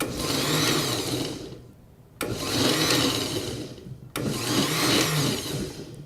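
A kitchen blender briefly pulsing half a batch of gazpacho: three short whirring bursts of about two seconds each, separated by brief pauses, loud and close with no talking.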